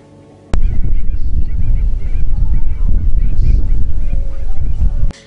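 Wild waterbirds such as geese and ducks honk and call repeatedly across a wetland marsh, a loud, continuous chorus of overlapping cries with a sharp knock at the start and another near the end.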